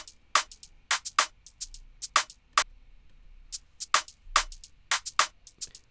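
Beat chorus from a song production, with loud rhythmic claps and crisp clicky percussion layered underneath in a steady, syncopated groove with no vocals.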